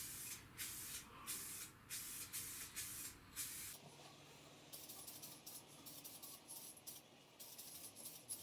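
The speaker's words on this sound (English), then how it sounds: "So let's get spraying." Full Dip is sprayed onto a Honda motorbike wheel in several bursts of aerosol hiss with short gaps between them, followed by a softer, more continuous spray with light rubbing.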